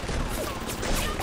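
Rapid gunfire from the BioShock video game, a dense burst of shots crackling over a rumbling low background, brief and fairly loud.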